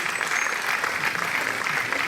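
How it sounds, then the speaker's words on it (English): Audience applause at a silver jubilee celebration, a dense, steady burst of clapping from a crowd filling the whole short moment without talk. "With a round of applause."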